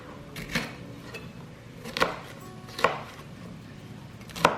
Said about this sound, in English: The peppers, there again, I'm just going to cut them roughly into large chunks.